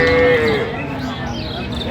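A dairy cow or calf at a rural cattle market in Dinajpur lets out one loud, close, drawn-out moo, followed by market chatter.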